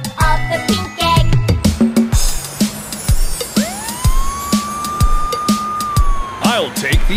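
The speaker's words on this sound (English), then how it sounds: "Ambulance came out of the pink egg." A cartoon ambulance siren rises into a long steady wail, loud and close, over a bouncy children's song with regular beats and occasional sung voices.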